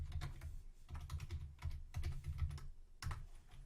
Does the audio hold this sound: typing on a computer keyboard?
yes